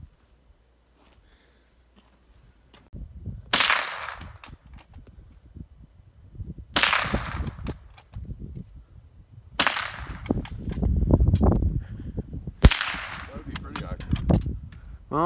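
An old gun is fired outdoors, four loud sharp shots spaced about three seconds apart, each followed by a ringing decay, with talk and rustling in between.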